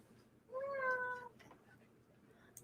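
A house cat meows once, a clear drawn-out call at moderate distance over a quiet room.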